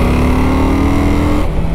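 A 2001 Honda Shadow VLX motorcycle pulls hard in second gear, its loud, close engine droning with a deep steady growl that rises in pitch, then eases off near the end.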